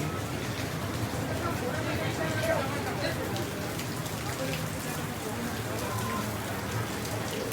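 Steady rain falls throughout at Gulmarg, a dense even patter with a faint background voice now and then.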